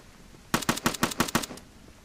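Rapid burst of turret gunfire in a video game, about eight evenly spaced shots in roughly a second, sharp and loud, then quiet.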